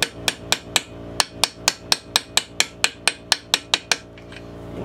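A steel seal driver is struck repeatedly with a hammer to seat the crankshaft seal on a Husqvarna 365 Special chainsaw, giving about sixteen sharp, evenly spaced metallic blows close by, with a faint ringing tail after the last strikes.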